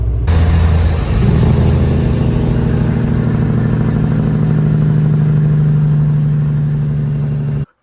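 A pickup truck pulls an empty grain trailer on a farm, its engine droning loud and close with a steady low hum and a rise in revs early on, running continuously until cutting off at the end.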